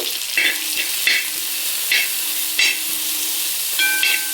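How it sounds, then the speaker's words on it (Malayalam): Carrots and beans are stir-fried in a pan, with a continuous sizzle and a spatula scraping through the vegetables in repeated strokes about every half second, close and with no talking. "ഒപ്പം തന്നെ നമ്മുടെ ക്യാരറ്റും പയറും കൂടെ അങ്ങിടാം കേട്ടോ വേവണ്ടേത് ഇട്ടു"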